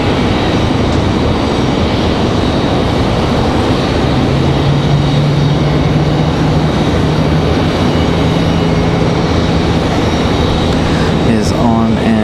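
A Breeze Airlines airplane lands at Raleigh-Durham airport with loud, broad jet roar and a low steady engine tone that builds toward the end, heard from nearby with people talking.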